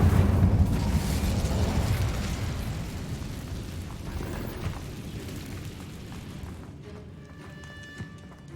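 Incendio fire spell cast in a Hogwarts Legacy style game, a loud whooshing burst of flame that rumbles and slowly fades over several seconds, with faint crackles at the end and no voices.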